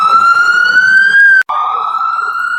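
An ambulance siren wails loud and close as it passes on a city street in New York, its steady tone sliding in pitch with a brief cutoff midway.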